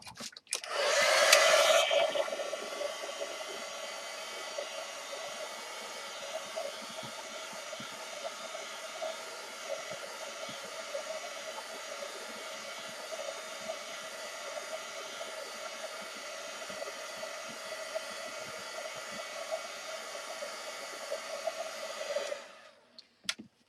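A hair dryer blows steadily on paint laid over burlap, a loud, even whoosh with a faint whine that runs for about twenty seconds after a brief louder start, then cuts off.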